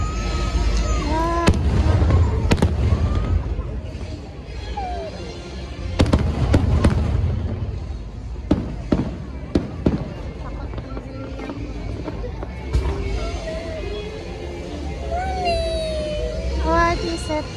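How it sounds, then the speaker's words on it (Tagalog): Fireworks burst over the castle at Walt Disney World in a nighttime show, sharp booms and crackles at irregular intervals amid crowd noise, music and nearby talking. "At saka nagda-dancing yung mga fireworks."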